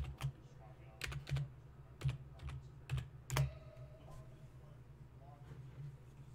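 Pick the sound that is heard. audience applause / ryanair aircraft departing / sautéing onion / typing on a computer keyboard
typing on a computer keyboard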